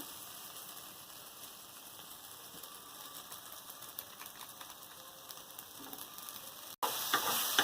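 Soybean chunks frying with spices in a pan give a steady, fairly quiet crackling sizzle that swells suddenly louder near the end, with no talking.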